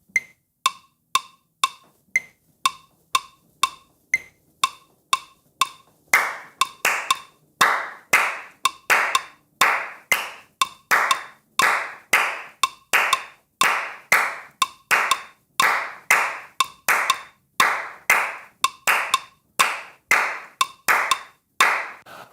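Sharp hand claps repeat in a steady syncopated Caribbean clave pattern, sparse and quieter at first, then louder and denser, close up with no talking.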